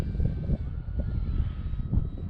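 An Arrows Bigfoot RC model airplane takes off in a park, its small electric motor whining steadily at moderate distance against light wind noise.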